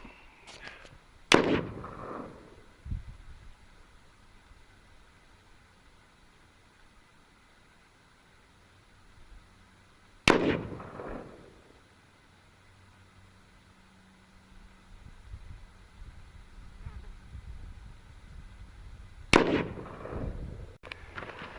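Three sharp rifle shots ring out outdoors while a rifle fitted with an Ace Hardware scope is zeroed. They are spaced about nine seconds apart, each a loud crack with a short echoing tail, and quiet fills the gaps.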